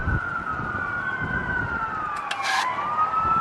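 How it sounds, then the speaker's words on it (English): Fire truck and ambulance sirens wail from a distance, a steady rising and falling tone that bends lower near the end, with short higher bursts cutting in over light background noise. "Can y'all see the fire trucks and ambulance?"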